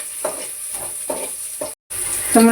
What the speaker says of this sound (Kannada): ಈರುಳ್ಳಿ ಗೋಲ್ಡ್ ಕಲರ್ ಫ್ರೈ ಆಗಿ ಆ ನಂತರ ಟೊಮೊಟೊ ಹಾಕೋಣ